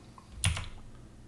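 Typing on a computer keyboard, a short cluster of a few close keystrokes in a quiet room.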